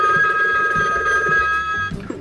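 A light pink retro rotary telephone rings with a steady electronic bell tone, loud and close, sounding continuously through the moment with no talk over it.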